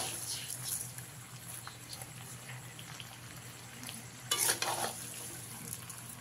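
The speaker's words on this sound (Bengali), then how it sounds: "এবারে আমগুলোর সঙ্গে ভালো করে মিশিয়ে নেব।" Raw mango pieces are stirred and tossed with sugar for a sweet pickle, giving soft, close patter and rustling with a brief louder burst of clattering midway.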